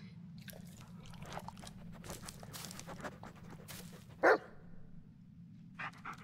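A dog in the Blair Witch horror video game gives a low, continuous rumbling growl with breathy panting, fairly faint and steady, broken by one sharp brief snap near the end.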